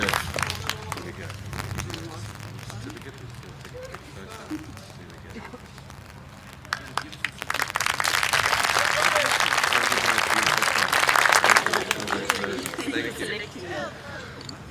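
Audience applause at an outdoor Freedom Day rally for a poet, starting as scattered claps under crowd murmur and swelling around the middle into a loud, sustained wash of clapping that holds to the end.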